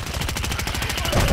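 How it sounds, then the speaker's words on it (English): Rapid automatic gunfire rattles in a Call of Duty match, a quick steady burst of close shots lasting just over a second. "I'm taking fire. Who else shooting?"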